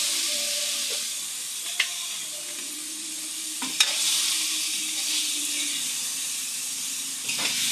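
Sliced radish sizzling in a hot pan, a steady close frying hiss with occasional louder pops and stirring scrapes, no talking.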